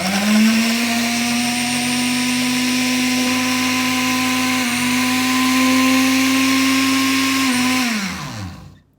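A Kambrook 1.5L blender making a smoothie whirs steadily at high speed with a strong constant motor hum, then winds down and stops near the end.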